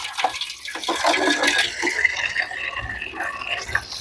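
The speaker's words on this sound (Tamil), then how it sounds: "தண்ணியை நல்லா வடிவா துறந்து விட்டுட்டா டக்குன்னு கழுவலாம்" Tap water runs and splashes while fish is rinsed for a Jaffna fish curry, an uneven gushing stream with sloshing bursts close by and no talking.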